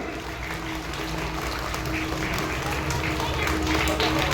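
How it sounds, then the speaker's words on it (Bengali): A crowd applauds loudly and continuously at an evening felicitation ceremony honouring blood donors and students, with dignitaries present. The dense clapping holds steady throughout, with a faint voice underneath. "সবাই জোরে হাততালি"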